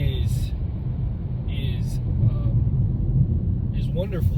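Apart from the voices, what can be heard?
2021 Kia Seltos accelerating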